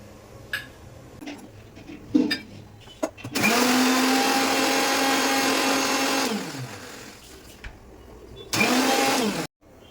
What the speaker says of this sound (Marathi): आता आपण हे मिक्सरला ग्राइंड करून घेऊया